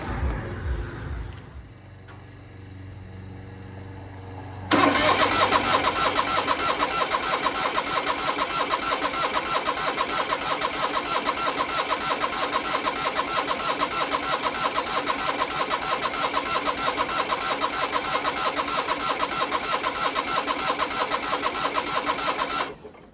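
A 1970s skid steer engine cranks and turns over with a low chug, then a loud, steady mechanical running roar takes over and holds for the rest, with no voices.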